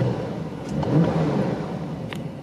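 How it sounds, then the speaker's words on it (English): 2020 Porsche 911 Carrera S (992) engine given a short rev with the exhaust valves closed, heard from inside the car: a muted, smooth mid-pitched rise and fall, fairly quiet. "here's a little rev from the inside with the exhaust closed"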